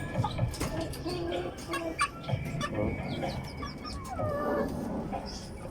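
Hens cackling and clucking repeatedly at close range, overlapping calls from several birds with a busy farmyard background.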